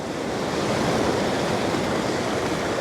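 Ocean waves wash in on a shore in a loud, continuous broadband roar of surf, close and steady, with wind noise mixed in and no voices.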